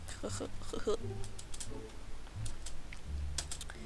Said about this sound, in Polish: Wiem, sorry, wale w klawiaturę.